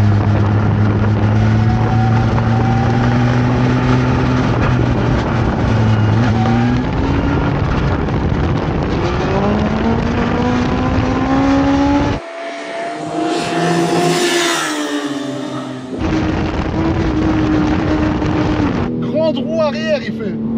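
BMW M3 car of 912 horsepower drag racing a motorcycle, loud engines roaring and revving with rising and falling pitch sweeps, a brief muffled stretch midway, with people talking throughout.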